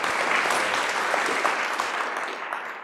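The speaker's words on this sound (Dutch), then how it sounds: "Dus een heel hartelijk applaus voor Marten Engelsen." An audience at a science café in Den Haag bursts into warm applause, a dense, even clatter of many hands that holds steady and then gradually tapers off.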